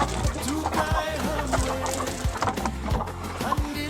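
Hens on a poultry farm cluck repeatedly in short, uneven bursts, several birds close by with overlapping calls and a faint background hum.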